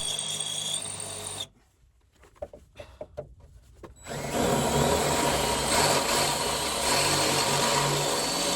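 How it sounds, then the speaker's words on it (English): A power drill widens a lubricated pilot hole in a 2026 Ram 2500 truck to install drop steps, running loud and steady for several seconds after a brief quiet stretch with a few scattered clicks and knocks. "Lubricate, then drill the larger hole."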